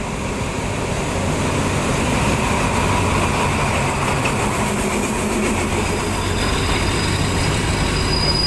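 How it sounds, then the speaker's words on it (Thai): A passenger train hauled by Alstom diesel locomotive 4207 rumbles steadily through Ratchaburi station in Thailand, with continuous loud rail noise, rolling wheels and faint squeals, close by and without speech. "ทำมาโดยหัวจักรอัลสตอมนะเครื่องพิวสติกหมายเลข 4207 นะครับ"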